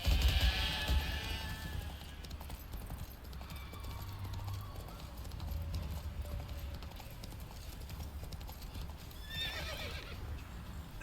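In The Witcher 3, a horse whinnies and neighs while its hooves clip-clop steadily along, the neigh rising near the start and again near the end over a quieter backdrop of game ambience.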